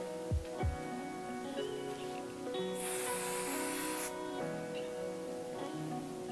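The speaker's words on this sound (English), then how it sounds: "just taking that volume spray and finger combing the hair" A single sustained burst of hair volume spray, a steady bright hiss lasting about a second, close by, set against quiet background tones.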